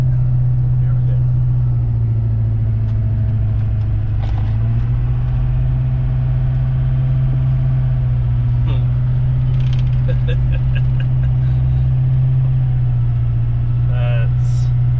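A truck engine labors up a steep hill, holding a loud, steady low drone for the whole stretch, with faint scattered knocks and rattles over it.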